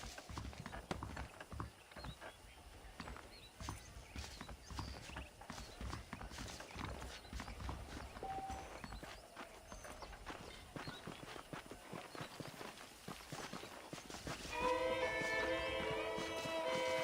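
Steady clip-clop of horse hooves trotting along in the video game Red Dead Redemption, continuous and rhythmic throughout, with a tonal musical swell entering near the end.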